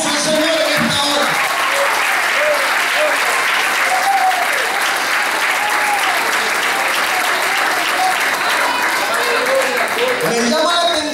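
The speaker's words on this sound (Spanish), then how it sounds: "Dale fuerte el aplauso al Señor en esta hora." A church congregation applauds loudly and continuously during an evangelist's service, a thick roar of clapping that stays even, with voices calling out over it at the start and end.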